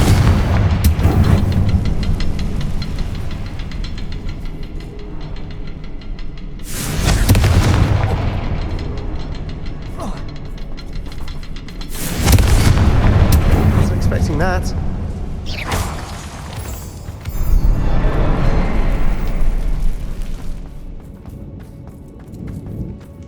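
Repeated Confringo fire-spell blasts in Hogwarts Legacy: several loud, booming explosions spaced a few seconds apart, each with a rumbling tail, over game sound effects.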